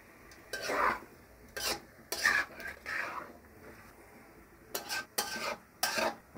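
Rooster meat is stirred and fried in a pot for polao. A spoon scrapes against the metal in short, close bursts, with a soft sizzle underneath between strokes.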